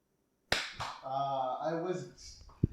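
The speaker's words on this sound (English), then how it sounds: "Think about when you guys would clap." Hands clap together in one sharp, close smack, followed by a person talking and a second crisp clap near the end.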